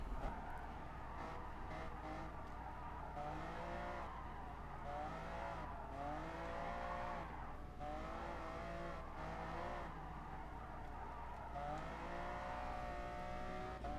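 Race cars in the Gran Turismo Sport video game's Lamborghini Cup roar continuously, with engines rising and falling through gear changes and revving layered together, a steady, full racing drone with no talk.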